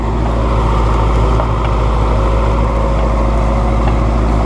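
Steady, loud tractor engine drone while sowing rapeseed, a constant low rumble with harmonic hum running unbroken throughout, no voices.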